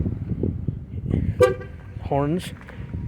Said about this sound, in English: everything works on this car, from horns